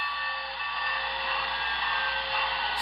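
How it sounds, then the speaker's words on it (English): Dynamo whine from the sound system of a Broadway Limited HO scale Big Boy steam locomotive model, a steady high electric hum that holds level alone throughout. "You hear the dynamo whine."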